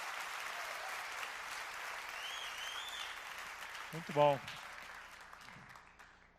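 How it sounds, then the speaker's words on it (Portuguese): Congregation applauding at an evangelical church service, a steady wash of clapping throughout with someone speaking over it and a brief voice near the end. "Aplaude aí, gente."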